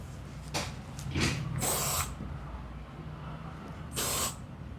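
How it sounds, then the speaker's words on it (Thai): Short bursts of hair spray during hairstyling for a teased twiggy-style updo, two to three brief hissing spurts close to the microphone with quiet background between them. "คือสเปรย์"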